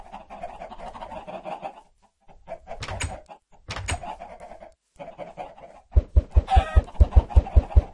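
Chickens cluck in a Minecraft game, a few scattered calls near the start followed by a quick run of short, evenly spaced clucks toward the end, with no talking.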